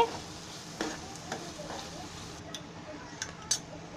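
Masala roasting dry in a kadhai for misal, a soft steady sizzle with a few sharp scraping and stirring ticks from a spoon, close and fairly quiet with no speech.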